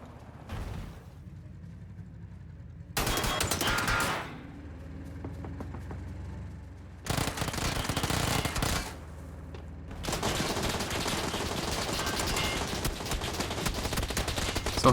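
Bursts of gunfire in the battle royale game PUBG on console, several loud rapid volleys separated by quieter gaps, with engine-like rumble between shots and no talk.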